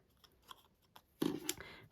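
Scissors fussy cutting around a stamped image on paper card, a faint snip or two followed by a louder burst of close, crisp cutting and paper rustle in the second half.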